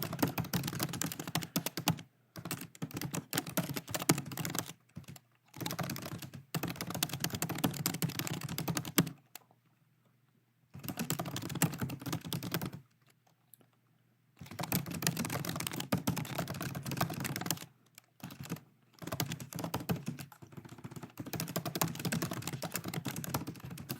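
Computer keyboard keys clattering as text is entered into a simple web form, fast dense runs of keystrokes in long bursts separated by short silent pauses, close and steady.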